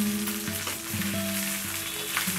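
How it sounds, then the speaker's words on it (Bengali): Shredded beef jhura bhuna fries in a pan and is stirred constantly. A continuous soft sizzle fills the clip under a faint melodic tone in the background. "অনবরত নাড়তে হবে, তা না হলে লেগে যাবে।"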